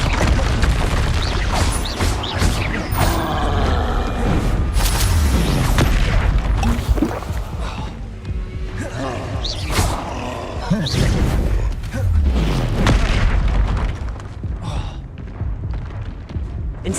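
Spellcasting combat in Hogwarts Legacy, including the Incendio fire spell, with repeated heavy whooshing bursts, booms and crashes in quick succession, loud and close, with spoken incantations over the top.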